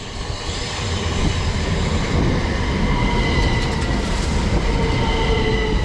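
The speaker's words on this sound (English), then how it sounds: "arriving in now is going to be the 1555 Southeastern service from Ramsgate to Charing Cross" A Southeastern passenger train rumbles loudly close by as it rolls into a Kent station platform, steady low roar with faint wheel squeal and high whining tones above it.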